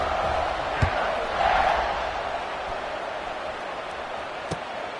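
A stadium crowd roars at a football video game, a broad, distant wall of cheering that swells briefly and then settles, with a couple of sharp thuds.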